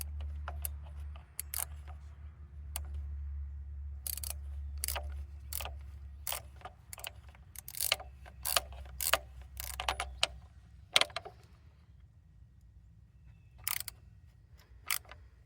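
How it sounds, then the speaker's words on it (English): A ratchet snugging down a plastic PCV valve on a 2017 Kia Forte engine, giving a run of quick metallic clicks in short bursts over a low steady hum, close and with no speech. "I am gonna snug it up with the ratchet there."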